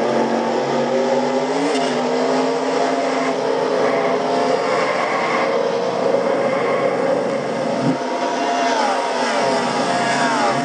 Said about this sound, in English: Heard Keon Shaw stall the car the first time, and then got going again.